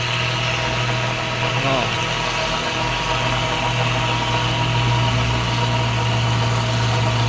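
Hino Ranger coal truck idling with a steady, deep, unbroken rumble near an oil palm plantation, close and loud throughout, with a brief spoken exclamation.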